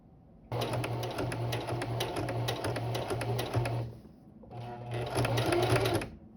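A sewing machine stitches a Naruto Kakashi jonin vest in two bursts of steady, rapid needle clatter, loud and close, with a brief pause between runs and no talking.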